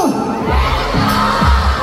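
Large crowd of SB19 fans at a fan meet shouting "Gento" together in loud, rhythmic chants, about three bursts of massed voices with cheering filling the gaps between them.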